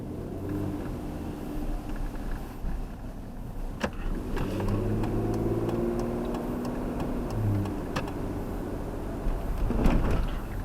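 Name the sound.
car engine and exhaust around 2,000 RPM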